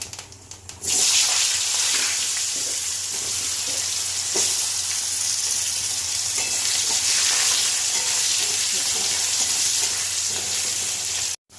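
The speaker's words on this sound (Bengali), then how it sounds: "আলু ভাজা হয়ে গেছে" Steady, loud hiss of potatoes frying in hot oil after a cumin tempering, with occasional faint clinks of a spatula, continuing without a break and then cutting off abruptly.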